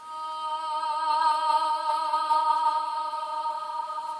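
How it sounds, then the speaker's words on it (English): A small sustained synthetic vocal sample with steady stacked harmonics holds a single tone in an electronic track, smooth and moderately loud, playing alone without talk. "This is the little small vocal sound."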